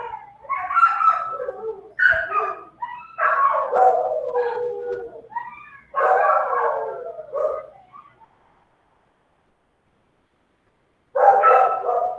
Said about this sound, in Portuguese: você tá escutando os cachorrados?